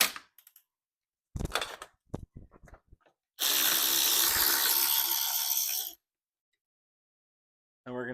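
Power tool loosening bolts from a Subaru GC8 car seat: a few sharp clicks and rattles, then a loud steady motor whir for about two and a half seconds, then silence and a brief restart.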